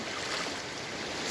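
Strong currents of the flooded Lempa river rush in a steady, loud, broadband roar, close and continuous with no voices.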